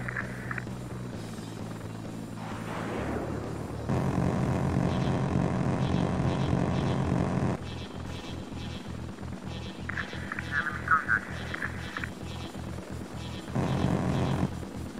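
A military helicopter in the game Heliborne keeps up a continuous rotor and engine drone, its pitch and loudness shifting as it flies, with rhythmic rotor thumping coming through in places.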